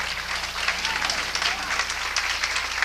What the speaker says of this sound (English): Is everybody clapping?